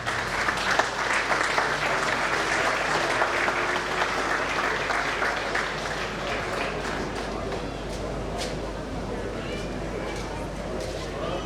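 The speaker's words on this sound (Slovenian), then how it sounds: "En velik aplavz." Sustained applause from an audience at a firefighters' day community event in Slovenske Konjice, dense and steady for the whole stretch with a faint background voice or two.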